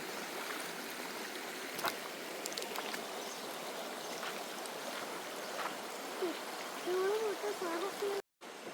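Flowing river water rushes in a continuous broadband wash, with faint scattered sounds and a brief whistling tone near the end.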